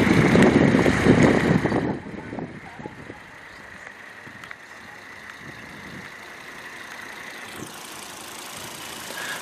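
A Volvo XC90's turbocharged 2.5-liter inline-five with 20 valves idles, loud and rough for the first two seconds before settling into a steady, quieter hum with some wind noise.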